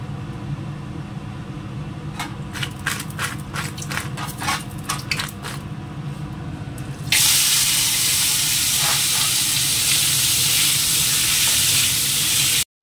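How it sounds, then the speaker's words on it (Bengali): Crab pieces rubbed with salt and turmeric hitting hot oil in a pan: a few light clicks and quiet pan sounds, then a sudden loud, dense sizzle that holds steady to the end. "এটা একটু আগে ভেজে নেব।"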